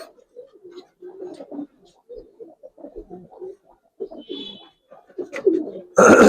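Giribaz pigeons coo close by in a series of soft, throaty phrases with short pauses between them, ending in a sudden loud burst of noise.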